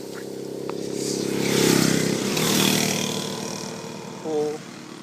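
A motor scooter's engine hums past, swelling louder then fading, with a brief high tone near the end over a steady background.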